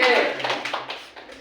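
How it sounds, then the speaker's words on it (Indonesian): A junior high classroom claps in scattered applause that fades over about a second, with a teacher speaking over it. "tepuk tangan buat kelas 8C"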